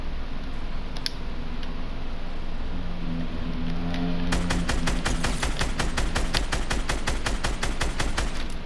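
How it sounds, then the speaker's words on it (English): Automatic gunfire in a video game: a low steady hum gives way midway to a loud, rapid, evenly spaced burst of shots that continues to the end. "I heard shooting."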